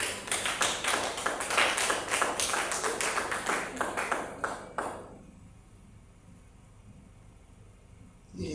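A church congregation claps steadily and rapidly for about five seconds, a dense, loud, rhythmic patter that then stops abruptly, leaving a quiet room tone.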